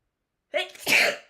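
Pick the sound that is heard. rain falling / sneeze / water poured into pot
sneeze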